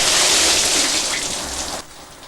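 Heavy artificial rain from a hose and the occasional bucket of water pours down in a steady, dense hiss, easing slightly near the end.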